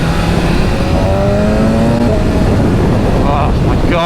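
A 2024 BMW S1000RR superbike with 210 hp pulls away hard, its engine note climbing steadily in pitch as it accelerates, loud and continuous with some wind noise.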